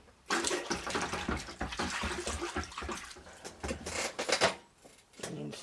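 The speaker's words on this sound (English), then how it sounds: "we'll just give them both a dunk in the water" Metal parts from a Stihl 066 chainsaw being dunked and swished in a tub of water, giving steady sloshing and splashing with a few louder surges, close by.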